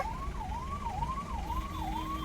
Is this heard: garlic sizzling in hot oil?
no